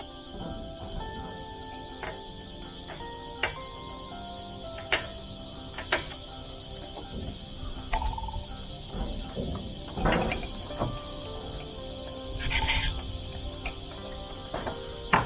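Spark plugs being fitted into an aircraft engine's cylinders during a 100-hour inspection: scattered close metallic ticks, small clicks and ratcheting taps, irregular and moderately quiet, with no talk.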